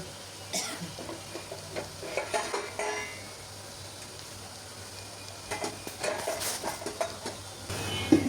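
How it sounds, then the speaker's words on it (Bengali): Spiced red leafy greens being stirred in a pan, with intermittent scraping and clinking strokes over a soft low sizzle and some quiet background noise. "একটু নাড়াচাড়া করে নিচ থেকে সব মশলা উঠিয়ে তারপর ঢেকে দেব"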